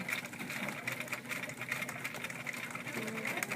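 A sewing machine stitches appliqué with a steady, rapid mechanical whir and needle chatter, running continuously at a fairly quiet level.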